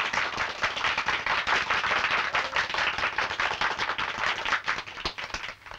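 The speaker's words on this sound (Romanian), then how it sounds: "Aplauze, bravo" Sustained audience applause with dense, steady clapping throughout, loud and continuous with some cheering texture, from a Romanian stage performance.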